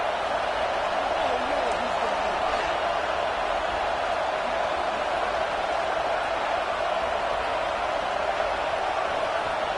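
Crowd roar from a stadium in the NCAA 26 college football video game on third down, a steady, loud, dense wash of noise that fills the whole stretch without clear breaks.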